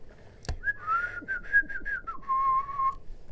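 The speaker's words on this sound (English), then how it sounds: "There you go. Bit of a whistle." A person whistles a short wavering melodic phrase alone for about three seconds, the tone sliding and pulsing before settling on a lower steady note, with a brief sharp click near the start.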